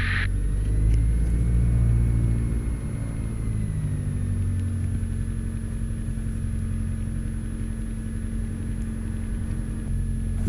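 A DR42 light aircraft taxiing toward the holding point, its piston engine running at a steady low rumble close by, with a brief louder surge at the start that eases into an even drone.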